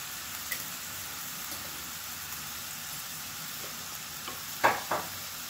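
Broccoli stir-fried with oyster sauce and black pepper sizzles steadily in a pan, then a couple of brief, sharp scraping stirs near the end.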